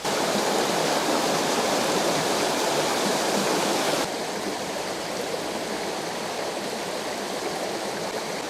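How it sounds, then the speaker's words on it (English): A river in Wales flowing near a footbridge, a loud steady rushing roar of water that drops slightly in level partway through and then continues evenly, with no voices. "Also, I can hear a river."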